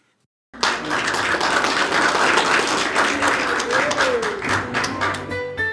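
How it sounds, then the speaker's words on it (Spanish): An audience in a church gathering breaks into sustained applause, many hands clapping steadily at close range for several seconds before tapering slightly, with faint voices mixed in beneath. "Saben, todo el mundo aplaudió"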